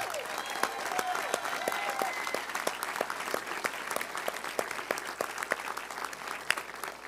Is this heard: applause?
yes